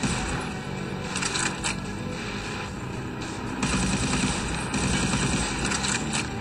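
Gunfire at steel boxes on an oil rig level in the video game SiN, a continuous rattle of rapid shots with sharp metallic impacts over dense background game noise, loud and steady throughout.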